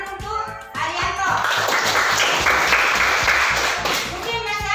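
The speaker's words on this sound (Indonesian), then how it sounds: "tepuk tangan untuk Arianto" A classroom of students clapping together in a sustained round of applause that swells and then fades, with children's voices at the start and end.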